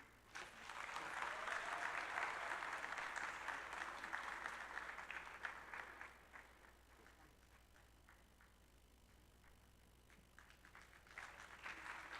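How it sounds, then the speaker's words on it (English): Loud applause from an awards ceremony audience at the PELT Awards second edition swells for several seconds, then settles into steadier, quieter clapping that picks up again near the end. "let's keep clapping for them"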